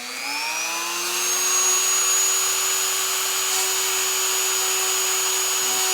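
A small power drill whines up to speed and holds a steady high-pitched motor tone, close and continuous, with faint grinding as it begins to bite into sea glass.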